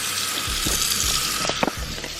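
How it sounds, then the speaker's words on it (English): A kitchen sink tap runs again after frozen pipes were thawed during a winter storm, giving a steady close hiss of flowing water with a few soft low thumps and no talk. "The kitchen sink is running."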